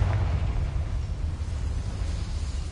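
A Confringo blasting spell exploding in Hogwarts Legacy, heard as a loud rumbling burst at the start that settles into a sustained low roar fading over a few seconds.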